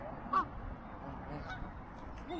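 Duck or goose giving a single short honk at close range against a faint outdoor background, brief and moderately loud.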